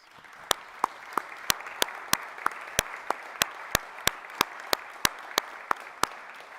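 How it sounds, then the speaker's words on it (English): Applause at a college graduation ceremony, heard as a crowd's soft clapping beneath a run of about twenty sharp, evenly spaced, loud claps, likely a single pair of hands close by. "let's give our family and friends a huge round of applause"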